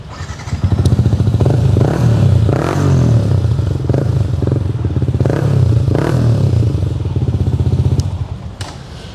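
A Yamaha M-Slaz motorcycle with an aftermarket Akrapovic exhaust runs close by, a loud, steady engine rumble with rhythmic pulsing, light clatter and a few small blips over about nine seconds.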